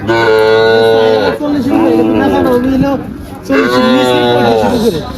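Cattle at a livestock market in Faridpur, Bangladesh, moo loudly and close in three long, drawn-out calls, one right after another, with only brief pauses between them and a low crowd murmur underneath.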